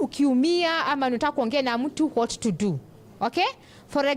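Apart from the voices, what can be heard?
No everyday noises stand out.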